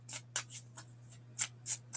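A deck of cards gets shuffled by hand: a quick string of crisp riffling flicks and snaps arriving in uneven bursts, close and fairly quiet against a faint steady hum, with no voices.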